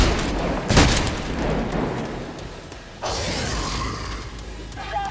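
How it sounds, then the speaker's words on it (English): Gunfire and a heavy boom in the video game Trepang2, followed by a sustained rushing blast with scattered crackles, loud and busy. "it's all down to luck and a lot of gunfire."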